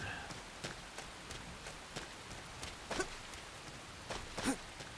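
Steady rain falls in the video game Xenoblade Chronicles X Definitive Edition, in the Starfall Basin area: a constant soft hiss with scattered pattering drops and occasional louder taps.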